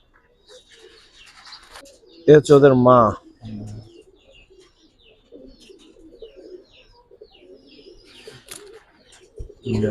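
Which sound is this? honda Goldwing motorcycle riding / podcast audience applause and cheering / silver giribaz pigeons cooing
silver giribaz pigeons cooing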